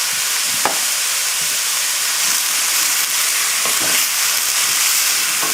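Vegetables and prosciutto fry on a high flame for a ham and bean dish, giving a loud, continuous close sizzle and hiss, with a few faint stirring knocks underneath.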